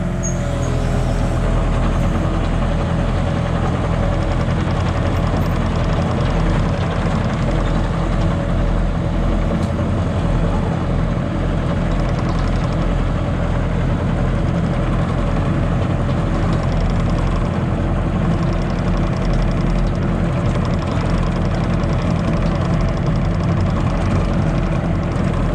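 Hitachi 35U mini excavator diesel engine running steadily at idle, a continuous low rumble that holds unchanged throughout with no talking.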